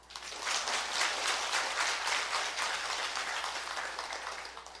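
A crowd at a Buddhist dharma sermon at Doseonsa temple on Samgaksan claps together, a dense even patter that swells in quickly and holds at moderate level, heard alone without speech.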